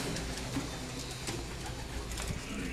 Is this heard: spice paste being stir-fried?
no